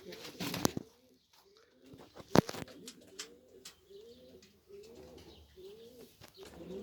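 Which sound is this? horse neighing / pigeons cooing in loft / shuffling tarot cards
pigeons cooing in loft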